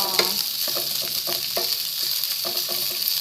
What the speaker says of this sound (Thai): เราก็จะผัดหมู ให้พอ